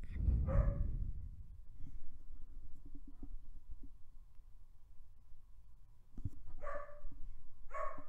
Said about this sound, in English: I just had to tell my dog to stop barking